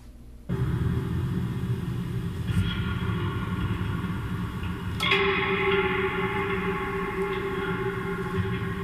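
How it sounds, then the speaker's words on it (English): A homemade string box instrument, run through Ableton Live with convolution reverb, starts with a sudden droning rumble, then plucked strikes ring out and swell into long, heavily reverberant washes of tone. "running the signal through Ableton Live and adding some convolution reverb to it"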